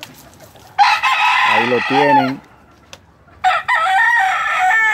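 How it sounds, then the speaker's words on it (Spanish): A young rooster crows loudly and close by, a long strained call followed by a second crow, with someone briefly speaking in between. "Es un gallo muy bien hecho"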